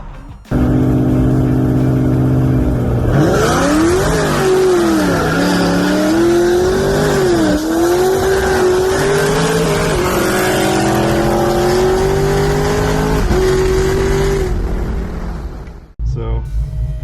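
A full-bolt-on 5th gen Camaro SS with heads, cam, intake, tune and 3600 stall races a cammed C6 Corvette 6.0 LS2, engines roaring loud and close through rising revs and gear changes for about fifteen seconds before cutting off.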